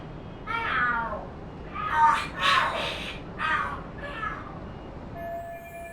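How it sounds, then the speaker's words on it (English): Cats in the video game Lost Judgment yowl and scream at each other in a series of loud, drawn-out caterwauls, rising to a peak midway and then trailing off into quieter cries. "Are there cats fighting?"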